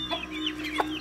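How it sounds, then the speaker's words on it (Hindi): Hen clucking in short bursts close by, among duck chicks at feeding time with millet scattered on the ground, a brief bright call standing out near the end. "फिर ये मुर्गी डरा रही है, ये भी इनको नहीं खाने दे रही।"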